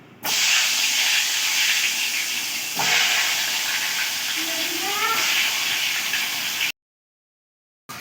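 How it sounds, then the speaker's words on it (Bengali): Large chunks of potato deep-frying in oil for a country-chicken curry make a loud, steady hissing sizzle with a brief dip partway through, then cut to a short silence before sound resumes. "তো আলুগুলো খুব ভালো করে ভেজে নিচ্ছি।"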